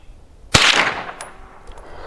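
A single 9mm Federal Polymer Jacket round fired outdoors from a carbine, a sharp loud crack followed by a decaying echo and a faint metallic clink.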